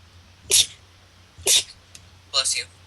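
Three sharp sneezes from a person in a dusty underground space, evenly spaced about a second apart, close and fairly loud over a low steady hum.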